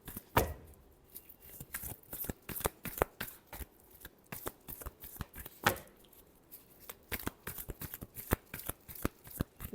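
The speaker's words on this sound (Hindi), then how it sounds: "Last shuffle." Tarot cards are riffled and shuffled by hand in a rapid, crisp series of flicks and snaps, close and fairly quiet, with regular bursts throughout.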